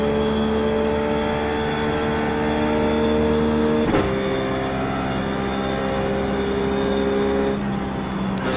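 Ruf GT3 race car engine at Spa in the sim racing game iRacing, a steady loud drone with a strong harmonic whine held at high revs, one brief shift-like blip midway and another near the end, with no voices.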